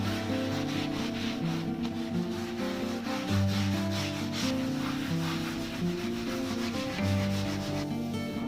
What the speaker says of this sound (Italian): Provo a sbiancare la superficie lasciandola il più pulita che posso.